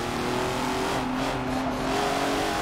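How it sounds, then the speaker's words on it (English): Porsche race cars in a video game revving hard off the start line, a loud sustained multi-engine roar with steady harmonic drone filling the whole clip, no talking. "All the Porsches just went off."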